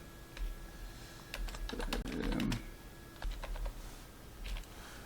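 Fingers type a message on a computer keyboard in short bursts of quick clicking keystrokes with pauses between them, close by in a quiet room with no talking.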